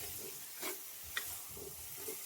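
Cleaned prawns dropped into a pan of roasted spice masala give a quiet, steady sizzle with soft stirring scrapes and a small clink, faint and close.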